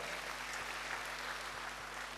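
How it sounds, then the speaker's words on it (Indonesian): A church congregation applauds during a sermon, a faint, even patter of clapping heard at a distance over a low steady hum. "Berikan tepuk tangan bagi Tuhan."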